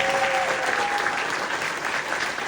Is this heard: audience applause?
yes